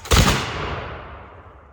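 Revolutionary War muskets fired together in a volley at a demonstration, one loud close boom with a blunt attack and a long rumbling tail fading away.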